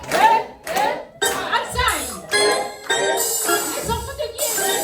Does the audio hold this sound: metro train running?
no